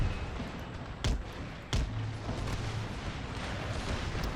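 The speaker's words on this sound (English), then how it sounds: "we've got more bloody hand grenades going off here" Hand grenades exploding on an Empire: Total War battlefield, two sharp distant thuds in quick succession over a continuous rumble of battle noise, with no voice heard.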